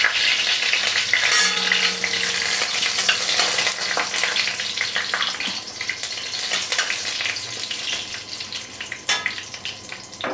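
Two dry red chillies and a bay leaf frying in hot oil, a loud, steady close crackle and hiss with occasional stirring scrapes and sharp pops throughout.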